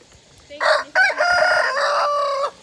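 Chickens at a rural home in Bohol, Philippines, with a rooster crowing loudly and close by in two long calls, alone with no talk.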